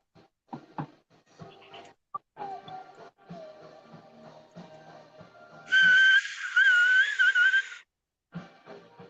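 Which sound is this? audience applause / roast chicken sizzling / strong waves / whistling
whistling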